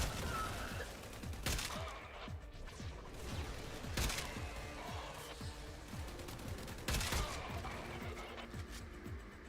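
Latron rifle fire in a shooter game, a string of rapid single shots with sharp decaying reports, a few heavier blasts standing out over a busy background.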